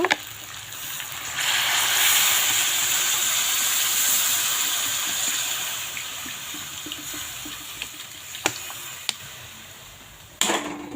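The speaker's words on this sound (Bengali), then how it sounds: "কষানো হয়ে গেছে এর মধ্যে আমি একটু জল ঢেলে দেব" Water poured into a hot pan of spiced, garlic-seasoned cooking food, a broad steady hiss and sizzle that swells and then slowly fades, with a few sharp clinks of a utensil near the end.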